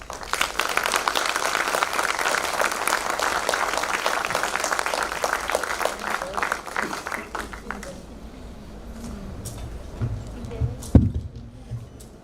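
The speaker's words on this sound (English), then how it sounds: "please give a huge round of applause" An audience at a trauma course and mass casualty workshop gives a round of applause that is dense at first and then fades, with low room rumble and a voice beginning to speak near the end.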